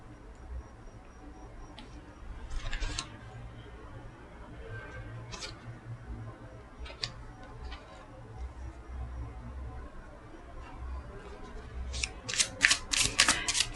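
Tarot cards are shuffled and handled at close range in a quiet room, with soft scattered riffles and taps, then a quick burst of crisp card flicks at the end.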